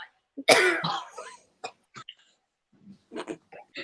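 One harsh, rough smoker's cough bursts out up close, followed by a few short throaty sounds and faint breathy noises.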